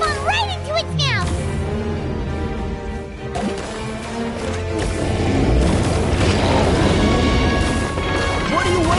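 A bomb blast bursts out in Genshin Impact amid busy game effects and music, a heavy crash rolling into a sustained rumble while a voice talks over it.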